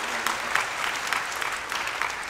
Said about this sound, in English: Clap of praise.